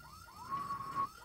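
A siren-like alarm blares through an asylum setting in a video game, a steady wailing tone rising and holding at moderate loudness, with no voices over it.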